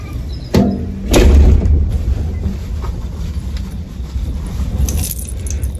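Car keys jingle and clatter in two quick bursts close by in a flood-hit house, then give way to a low background rumble.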